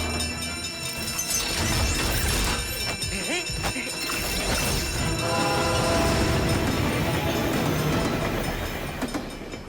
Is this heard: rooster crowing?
no